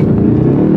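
A V8 car engine, a pure eight-cylinder that runs without a four-cylinder mode, revs loudly and steadily up close for a short burst, with no voices over it.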